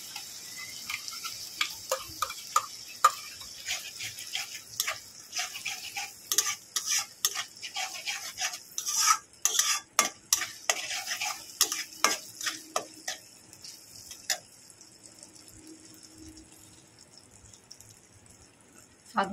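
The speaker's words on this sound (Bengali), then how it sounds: "পেঁয়াজটা একটু হালকা করে ভেজে নেব।" Onion fries lightly in a pan with a soft sizzle under repeated sharp scrapes and taps of a spoon stirring, the clinks irregular and close, thinning out toward the end.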